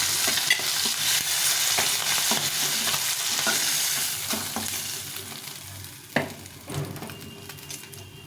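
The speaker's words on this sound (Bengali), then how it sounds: "মাছটা ভাজা হয়ে গেছে, ভালো করে ভেজে নিয়েছি। এখন মাছটা উঠিয়ে দেবো।" Fish head frying in hot oil in a pan, a loud, dense sizzle with stirring scrapes that thins out toward the end and is punctuated by a few sharp clanks, with no voices.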